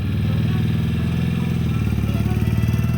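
A Morgan 3 Wheeler's engine fires up and settles into a loud, close, lumpy motorcycle-like idle with a steady pulsing beat throughout.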